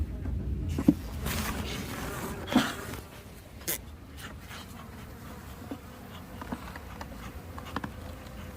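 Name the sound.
honeybees buzzing in opened beehive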